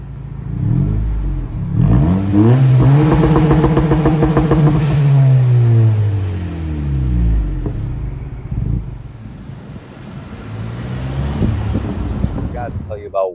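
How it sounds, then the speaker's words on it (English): A 2022 Honda Civic Si engine revs up hard from idle, climbing to a loud sustained high rev for a few seconds, then dropping and blipping again with rumbling exhaust close by. "I'm gonna go ahead and rev it up a little bit, just to let you guys know how it sounds"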